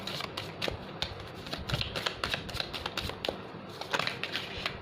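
A tarot deck is shuffled and cards are drawn from it, producing a dense, close run of rapid flicks and riffles that continues throughout with no voices.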